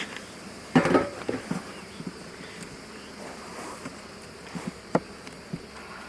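Honeybees drone in a steady, even hum inside an open hive whose frames hold swarm cells, with occasional soft knocks and taps of handling over the buzz.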